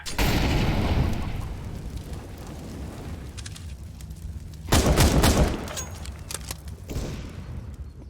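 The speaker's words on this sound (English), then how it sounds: "Throwing a flashbang. I'm throwing a flashbang." In a first-person shooter match, a flashbang grenade goes off close by with a dense crackling burst. Surrounding gunfire and smaller blasts come in waves, and a louder pop cuts sharply through them partway in.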